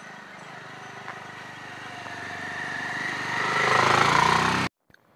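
Motorcycle ridden by a learner in Digoti village, Pithoragarh, Uttarakhand, a steady mid-pitched engine drone that swells louder over several seconds as the bike nears, then cuts off abruptly.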